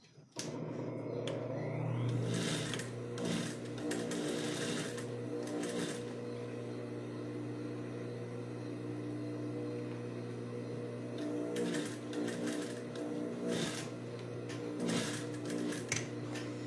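A sewing machine runs a seam on a square-neck blouse in close, loud bursts of rapid stitching, stopping and starting again with quiet pauses between runs.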